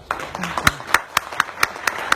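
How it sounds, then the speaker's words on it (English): A few people clap at a formal ceremony, with sparse, separate claps in an uneven rhythm and a faint murmur of voices beneath. "A big round of applause."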